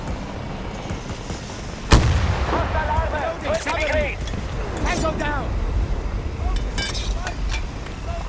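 A rocket explosion in the game Battlefield 2042 bursts out sharply, followed by a rumbling battlefield din with scattered gunfire and debris clinks, while voices talk over the action.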